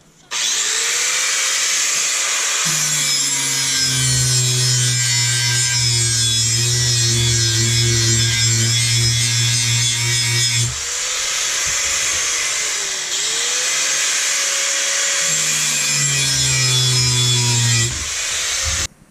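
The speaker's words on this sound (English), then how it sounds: "I switched over to my grinding with my disc grinder with the paddles" A disc grinder with abrasive paddles grinds a Serbian chef's knife blade, giving a loud, steady whining drone that changes pitch as the blade is pressed and released, with a brief dip midway.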